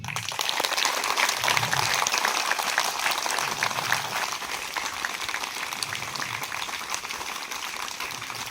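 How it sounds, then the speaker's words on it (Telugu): Schoolchildren at a parent-teacher meeting burst into loud, continuous applause, a thick steady clatter of many hands that holds for the whole stretch. "మీ పిల్లలందరూ ఈరోజు క్లాప్స్ కొట్టి ఒకసారి వినిపియండి నాకు"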